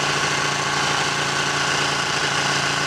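A Ducati Panigale 1299 S superbike engine runs on a fast, bumpy road, giving a loud, steady, unbroken drone with no talk over it.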